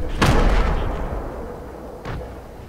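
Two loud gunshots ring out in Fortnite, a heavy close blast followed by a long fading tail, then a second, softer shot about two seconds later.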